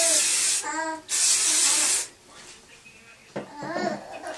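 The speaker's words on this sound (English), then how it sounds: "Pantene Medium Thick Hair Style Hairspray" Pantene Medium Thick Hair Style anti-humidity, maximum-hold hairspray sprayed onto hair indoors in two loud, close hissing bursts of about half a second and one second, with faint voices and handling sounds in the gaps.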